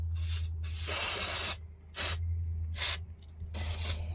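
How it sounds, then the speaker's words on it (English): Liquid Wrench penetrating oil is sprayed from an aerosol can onto parts of an old dragline crane in short, sharp hissing bursts, some brief and one longer, with quiet pauses between. "Let me see if I can get some liquid wrench in here."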